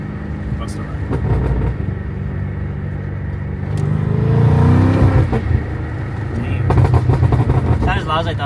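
BMW F90 M5 with a new loud aftermarket exhaust accelerating: a rumbling engine roar builds and surges over several seconds while people talk over it.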